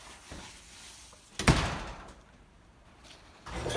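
A door shuts with one solid thump, followed by faint rustling and room noise.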